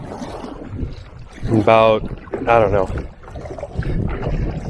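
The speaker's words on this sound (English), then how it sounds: "Yep, always windy here." Steady wind gusting across Stillhouse Hollow Reservoir, a broad rumbling buffet on the microphone that runs through the whole stretch beneath a man's speech.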